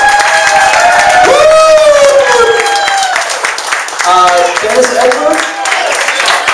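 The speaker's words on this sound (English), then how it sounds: "Give a big round of applause. Louder, come on." A crowd claps and cheers at a holiday networking party as a couple comes to the stage, with whoops and raised voices riding over the applause and people talking loudly throughout.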